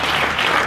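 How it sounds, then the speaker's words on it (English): Warm audience applause for a speaker at a human rights and common good event in Mullumbimby, a loud, dense wash of clapping from a crowd, brief and continuous. "let's again give a really warm round of Mullumbimby applause for Shen Narayanasamy."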